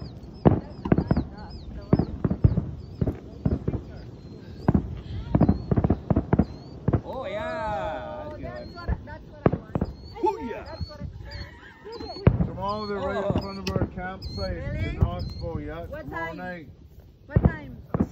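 Canada Day fireworks over the town of Carnduff in 2021, set off in front of a campsite at dusk: repeated sharp bangs and crackling bursts, some close and loud, with whistling rising shells and people talking between the blasts.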